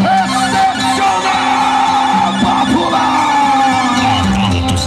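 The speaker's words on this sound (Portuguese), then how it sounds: "Cadê o grito do povo?" A rodeo crowd at a Brazilian Festa do Peão shouts and cheers in a loud, continuous roar of yells and whoops, with an announcer's voice running through it.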